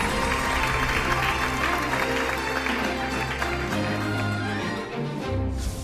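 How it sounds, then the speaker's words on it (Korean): Audience applause at a copyright forum in Anseong as a vice mayor is invited up to speak, sustained clapping from a crowd under steady background music and a low hum. "따뜻한 박수 부탁드립니다."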